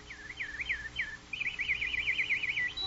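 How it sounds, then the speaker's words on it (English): A nightingale sings alone and fairly close, first a few separate swooping whistles, then a fast warbling trill, clear over faint background hiss. "Nightingale, sing."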